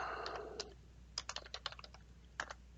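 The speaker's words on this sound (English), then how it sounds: "now I can type in my text" A computer keyboard clatters as text is typed: a brief rustle, then around a dozen sharp, uneven keystrokes close by, with a last pair after a short pause.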